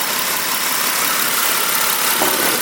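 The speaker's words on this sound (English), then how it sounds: "air compressor is installed" A rebuilt ViAir 12-volt-style air compressor runs steadily after installation, giving a constant loud motor drone and buzzing hum with no pauses, close to the listener and without speech.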